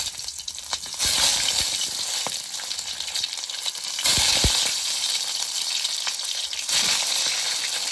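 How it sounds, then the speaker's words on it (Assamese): Tomato fries in hot oil with a loud, continuous sizzle close by. The hiss surges in waves, and occasional stirring knocks sound against the pan. "এতিয়া ইয়াতে বিলাহীটো অকণমান ফ্ৰাই কৰি ল'ম।"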